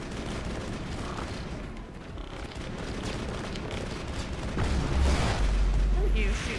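Rocket blasts and gunfire in a Mass Effect battle against Geth, a dense, continuous roar of explosions and shots that swells louder toward the end, with a voice talking over the combat.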